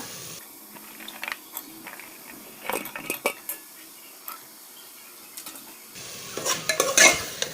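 Vegetables stirred and sautéed with spices in a pot for veg biryani: scattered scraping and clinking of a spoon against metal, soft sizzling, and a busier burst of stirring near the end.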